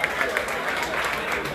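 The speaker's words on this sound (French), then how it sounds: "je voudrais qu'on puisse applaudir très fort" Live show audience applauding a Côte d'Ivoire music act, a continuous wash of clapping at moderate distance that stays fairly even and blends with crowd murmur throughout.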